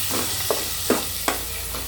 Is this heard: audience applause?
no